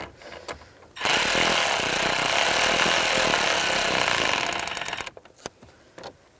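A power screwdriver snugs down screws on the hazard switch of a 1998-2010 Volkswagen Beetle, giving one loud, steady whirring burst of about four seconds, followed by a few faint clicks.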